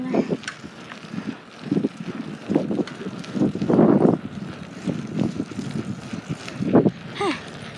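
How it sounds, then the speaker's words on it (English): Gusty wind buffets the microphone in uneven bursts, rumbling low and loud while cycling outdoors. "Sorry if you guys can hear wind, by the way."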